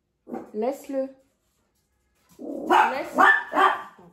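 A dog barks in a home setting, two short barks near the start, then a burst of louder barking while someone speaks over it.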